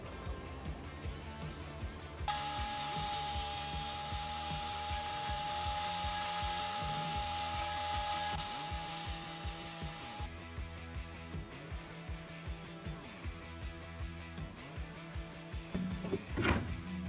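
A Grizzly planer and belt sander working hickory and walnut in a wood shop: a sustained high whine with a steady mechanical hum starts after a couple of seconds and runs for about eight seconds, then repetitive rhythmic clatter with a sharp knock near the end.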